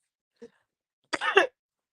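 A woman gives a short throat clear followed by a brief rough cough, two quiet isolated bursts with silence between them.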